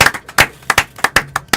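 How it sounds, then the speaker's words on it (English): A small audience claps in a sparse, uneven round of separate hand claps at a school event on a child's upbringing, each clap sharp and close. "Please, a round of applause for that."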